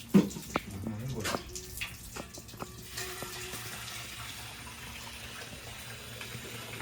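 Running tap water pours steadily as something is rinsed at a sink, with clattering handling noises early on and voices talking briefly.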